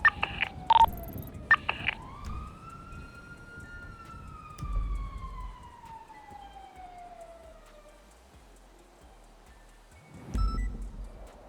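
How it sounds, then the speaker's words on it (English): Emergency vehicle sirens wail outdoors, a rising then slowly falling tone drifting past at moderate distance, with a few sharp short beeps at the start and low rumbling traffic noise underneath. "I don't know if that's related, but I heard the sirens."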